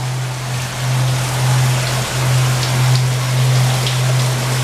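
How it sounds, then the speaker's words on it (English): Running water from a small waterfall beside a mine-themed attraction makes a steady, even rush close by, with a constant low hum running beneath it and no voices. "Oh, I hear running water. Sure enough, here's a nice waterfall."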